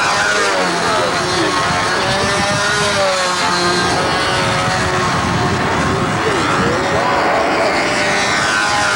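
A model airplane powered by a Super Tigre 51 engine flies at Flushing Meadows Park, its loud, constant engine drone shifting slightly in pitch as it passes through rough air.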